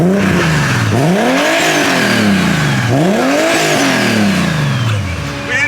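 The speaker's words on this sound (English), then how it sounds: "Jordan, can you give her a couple little revs for me?" A turbocharged, manual-swapped car engine revs up twice, each rise climbing sharply then dropping back to a rumbling idle, loud and close with no talking.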